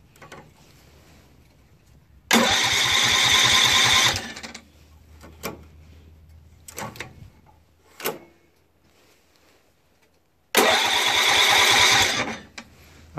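Tecumseh 6HP engine on a Snapper riding mower cranking over with carb cleaner sprayed in, in two loud rhythmic bursts of a couple of seconds each, separated by quieter knocks and handling noises.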